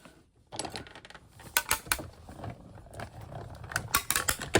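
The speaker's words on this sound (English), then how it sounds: "we're gonna send these all through at the same time on our die cutting machine" Card stock sheets feeding through a die cutting machine, a steady mechanical grinding and ratcheting run with sharp clicks and clacks, fairly close and without talk.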